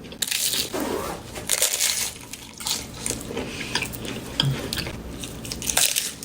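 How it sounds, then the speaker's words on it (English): Someone bites into and chews a small taco with a light shell, making irregular crunchy bites and mouth sounds at close range, with brief gaps between them. "And let's eat, okay? So that is my taco"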